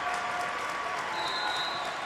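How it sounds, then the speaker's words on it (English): A high school boys basketball playoff crowd in a gym claps and cheers without a break, making a dense, steady wash of applause with a few louder shouts on top. "The Winchester players trying to get their crowd up and amped right now."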